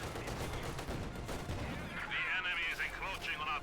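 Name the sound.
gunfire in Company of Heroes 2 video game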